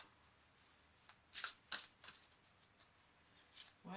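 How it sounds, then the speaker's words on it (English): Playing cards are shuffled at a tarot reading, quiet scattered riffling snaps and flicks with a louder burst at the end, faint and close. "I'm going to shuffle these and pull one more."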